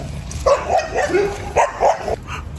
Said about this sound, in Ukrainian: До мене біжать собаки.